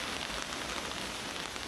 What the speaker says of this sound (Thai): ฝนตกมาตั้งแต่เมื่อคืนแล้วนะครับผมตกทั้งคืนเลยนะครับผม